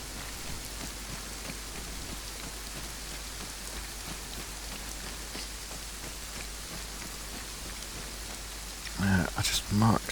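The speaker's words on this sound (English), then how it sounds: "God, the rain's really coming down." Heavy rain pours down in the ArmA 3 video game, a dense, constant hiss of drops on surfaces throughout, with a brief burst of louder sounds near the end.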